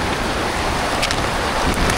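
Steady heavy rain pours during a downpour in a hilly area, a dense continuous wash of noise with no pauses, loud and close.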